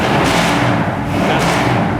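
A 1962 Chevrolet Impala restomod's engine idles just after starting, giving a steady, loud, close low rumble with a few soft thumps and no voices.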